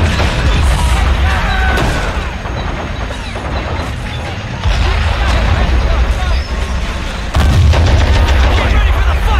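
Gunfire and artillery fire in Men of War: Assault Squad 2 during a Pacific island battle on Luzon, with heavy booming blasts and dense crackling shots rolling on loudly and without a break.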